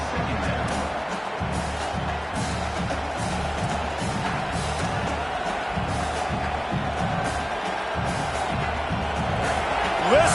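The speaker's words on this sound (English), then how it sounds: "Listen to this crowd just shaking the girders of this place, trying to help their defense" A football stadium crowd cheers loudly to urge on its defense, a dense, steady roar that fills the whole stretch and swells slightly at the very end.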